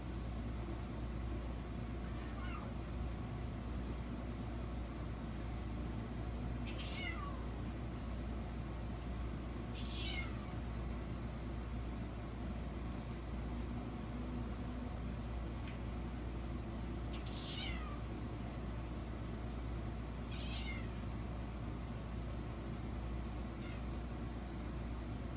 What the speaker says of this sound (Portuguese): 11 de agosto ele posta outro vídeo dos gatos miando e que um deles estava super falante.